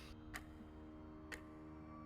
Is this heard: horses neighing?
no